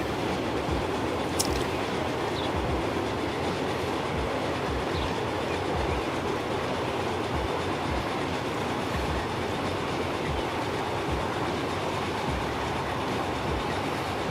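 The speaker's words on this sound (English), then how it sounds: "Let's just enjoy a train ride together." Train ride in the video game Transport Fever 2, a continuous rolling rumble with steady rhythmic clickety-clack of wheels over rail joints throughout.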